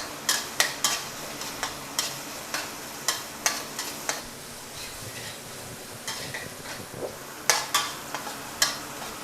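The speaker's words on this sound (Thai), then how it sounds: "ผัดจากไฟอ่อนๆนะครับให้เริ่มเหลืองหอมก่อนครับ" Chopped ginger stir-fried in a pan over low heat, a steady soft sizzle punctuated by regular sharp scrapes and taps of a spatula against the pan, close and clear with no talk.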